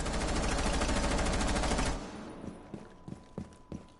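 Rapid automatic gunfire from a first-person shooter, shooting from a corner into a room: two seconds of loud, dense continuous fire, then scattered sharp shots and clatter trailing off.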